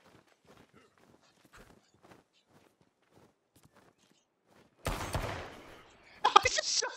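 Quiet, scattered footstep-like taps from the survival game H1Z1, then sudden loud gunfire bursts: a sustained rattle near the end of the fifth second and a sharper cluster of shots just after six seconds.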